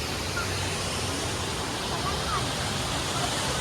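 Bali waterfall heard from a high canopy bridge, a loud unbroken roar of falling water filling the whole stretch evenly.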